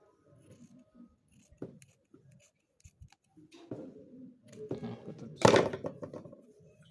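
Fabric scissors snip through a waistband in short, uneven cuts, quiet and close, building to a louder crunching cut near the end.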